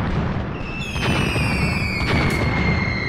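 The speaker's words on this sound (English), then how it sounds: "We have spotted an artillery battery here, which is now under our mortar fire, obviously." Mortar fire pounding an artillery battery in the war game Graviteam Tactics: a continuous crackling, rumbling barrage with sharp pops and whistling tones, loud and unbroken, with no talking.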